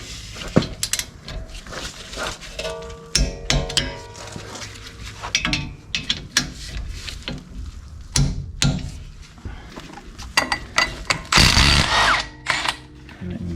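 Rear brake bolts on a 2021 Ford Ranger 4X4 are tightened to torque, with irregular metallic clicks, clunks and short ratcheting bursts spread across the stretch and a louder grinding burst near the end.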